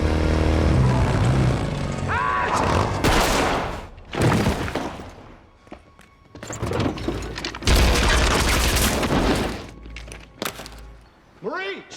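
Gunshots ring out in a Netflix drama scene, loud booming blasts and thunks amid dense action noise and music, with a voice speaking at times.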